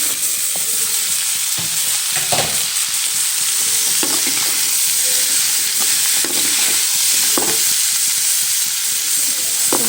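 Pumpkin pieces tumble into browned onions frying in a pan, setting off a steady hiss of oil with scattered scraping and clattering stirs, close and fairly loud, with no talking.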